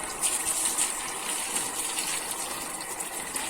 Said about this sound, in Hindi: इसको पानी तो पूरा लग चुका है